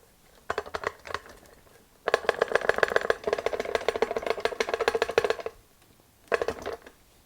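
Worn joint pin on a cracked old shotgun rattling as the action is shaken, a short burst, then a long dense run of loose metallic clatter, and a final brief burst, close and fairly loud with no talk.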